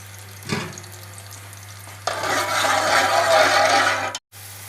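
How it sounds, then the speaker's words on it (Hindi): Onions dropping into hot ghee for chicken matar pulao set off a steady, close sizzle of frying that swells after a brief stir and runs for about two seconds before cutting off abruptly. "अब प्याज को ब्राउन कर लेते हैं"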